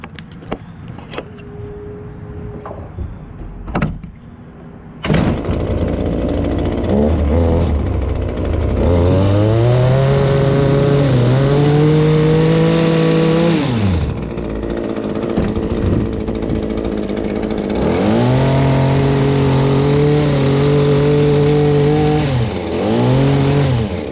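A hedge trimmer's small engine starts with a sharp burst and runs loudly up close, revving up and down in waves, its pitch rising and dipping repeatedly.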